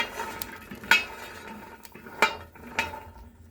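Chickpeas and peanuts being roasted in a thick saç pan on a home stove, with scattered metallic clanks and scrapes of stirring against the pan, a few sharper knocks standing out over a low background hiss.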